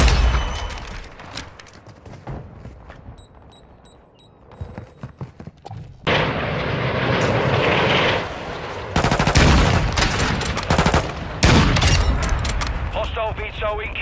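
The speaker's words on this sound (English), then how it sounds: "Hostile VTOL incoming." Call of Duty Modern Warfare 2 match with rapid bursts of automatic gunfire and sharp blasts, interrupted by a hostile VTOL aircraft attack. A loud, dense stretch of combat noise runs alongside in-game voice announcements.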